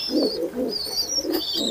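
Pigeons in a loft of high-flying breeding birds coo in soft, repeated low bursts, several in quick succession, with a steady chirping tone running above them.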